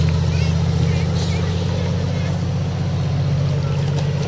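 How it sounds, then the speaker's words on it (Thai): A large ten-wheel truck churns through deep floodwater on a rural road, its heavy diesel engine droning loud and steady with a continuous low rumble and the wash of moving water. "รถใหญ่10ล้อ"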